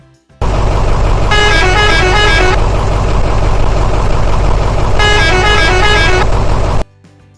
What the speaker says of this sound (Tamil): ஒரு பேருந்து